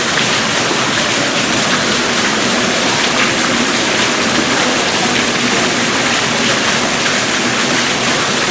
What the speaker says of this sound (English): Right by the waterfall, got a couple more birds